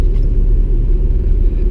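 A 2001 Audi S3 8L with KW V2 suspension rumbles low and steady while driving, a continuous close engine drone with no voices over it.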